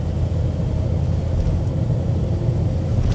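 A Renault 4 GTL engine revving, a steady low droning rumble held at a constant, fairly loud level with no talk.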